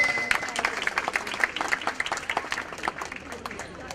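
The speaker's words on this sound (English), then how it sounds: "A big round of applause." Audience applause at a golden jubilee celebration in a hospital, a dense burst of many hands clapping at once that keeps going steadily, fairly near, with some voices mixed in.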